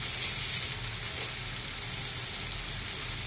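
Vegetables for veg biryani sauté in a hot pan with rock salt, giving a steady close hiss and sizzle with a few brief crackling spurts and no voices.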